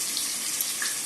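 Eggplant and potatoes are rinsed under running tap water in a kitchen sink: a brief, bright, steady splashing rush of water from the faucet.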